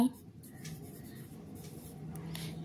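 Chalk or a pen writes words during an English lesson with faint scratchy strokes over a low background hum. The writing stays quiet throughout.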